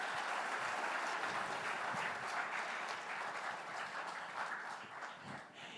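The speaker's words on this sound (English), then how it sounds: "a round of applause for them." An audience applauds a women-in-STEM panel of an astrophysicist, a virologist and a space entrepreneur at an education conclave. The clapping is even and sustained, fairly distant and soft, and tapers slightly toward the end.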